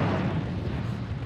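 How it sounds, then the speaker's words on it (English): A deep, rumbling grenade blast in Halo: Combat Evolved fills the moment, a dense low roar that holds steady without fading. "I heard the explosion."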